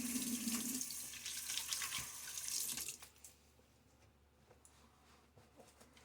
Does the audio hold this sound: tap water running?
yes